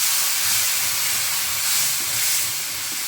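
Onion sautéing with ginger garlic paste for chicken kurma gives a steady broad hiss and sizzle, continuous and fairly loud across the whole stretch, with low rumbling underneath and no voices.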